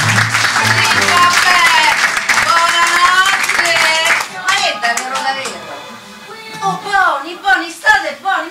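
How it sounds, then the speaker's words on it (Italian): An audience claps and applauds loudly in a dense, steady burst that thins out after about four seconds into scattered claps, with people talking and laughing over it. "ma che gli applaudite pure?"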